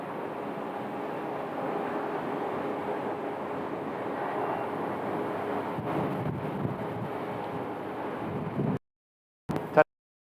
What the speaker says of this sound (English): As I get a nice hot breeze blowing on me.